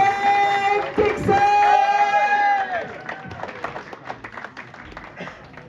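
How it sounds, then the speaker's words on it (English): A comedy club crowd in Essex bursts into loud sustained applause and cheering as a comedian is welcomed to the stage, the clapping thinning out toward the end amid crowd noise. "we can start the round of applause at the front of here, work our way at the back, round the sides, down the front"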